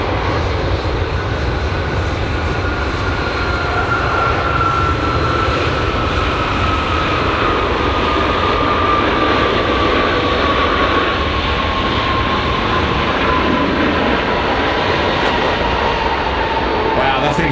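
A Boeing 787 airliner rolls down the runway at Sydney Airport, a loud, steady engine roar with a slowly falling whine that holds for the whole span, with no letup.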